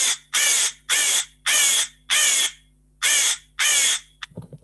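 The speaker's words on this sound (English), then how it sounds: "This was the sound of crow." A crow caws six times in harsh, loud, evenly spaced calls, each rasping and drawn out, followed by a brief faint rustle.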